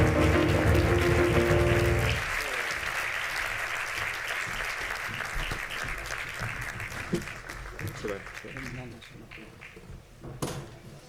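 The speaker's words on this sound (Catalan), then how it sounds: "Un aplaudiment pels speakers." An audience applauds the speakers at a Carnaval de Solsona event, loud dense clapping for about two seconds that then thins into scattered claps and knocks under a speaking voice.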